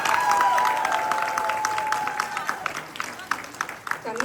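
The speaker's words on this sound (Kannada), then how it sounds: "ದಯಮಾಡಿ ಜೋರಾದ ಚಪ್ಪಾಳೆ ಭಾರ್ಗವಿ ಮತ್ತು ತಂಡಕ್ಕೆ" Audience applauding a children's performance at a Ugadi Kannada association celebration: dense clapping at first, thinning and fading out as voices take over.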